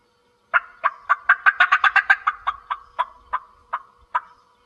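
A turkey call imitates a hen's fly-down cackle: about fifteen sharp, clucking notes that start spaced, speed into a rapid flurry, then slow and trail off, loud and close with no talk.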